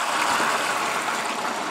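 Pure pressed apple juice pours steadily from a bottle into a slow cooker, a loud, close, continuous liquid rush with no break.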